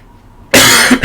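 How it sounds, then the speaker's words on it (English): A single short, loud cough bursts out of near silence and trails off with a small second breath. "A little cough."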